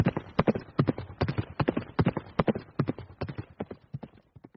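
A horse's hooves clip-clop along a country back road in Indiana, a steady, close, rhythmic trotting beat that keeps going throughout with no talk over it.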